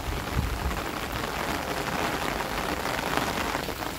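Light rain falls steadily outdoors in the countryside of Trực Ninh, Nam Định, a soft, even patter on surfaces with no voices.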